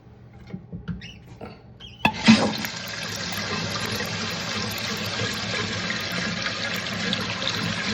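A few soft clicks, then a sudden rush of water that settles into a steady hiss as a toilet tank refills nearby.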